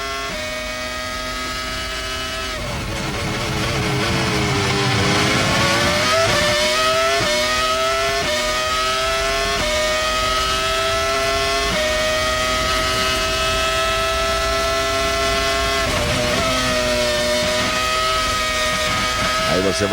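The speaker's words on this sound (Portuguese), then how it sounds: "Aí você vai acelerando com o carro" Formula 1 race car at the Australian Grand Prix accelerating hard, a loud, sustained high-pitched engine scream that rises through gear changes for twenty seconds.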